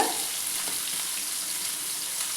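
Fish fries in hot oil on a low-to-medium flame, a steady, close hiss and crackle of sizzling that holds evenly throughout with no voices.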